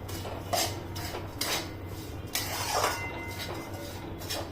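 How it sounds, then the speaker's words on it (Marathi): Sesame and poppy seeds with grated coconut sautéed in a pan for sambar vadi, a Marathi crispy tea-time snack, with a spatula scraping and clinking against the metal in irregular bursts over a low steady hum. "आता हे सगळं याच्यामध्ये टाकायचं आणि छान परतवून घ्यायचं"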